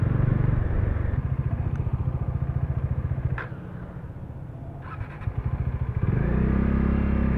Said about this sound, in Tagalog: May vibration talaga yung box lalo yung mga laman tumutunog-tunog ng konti.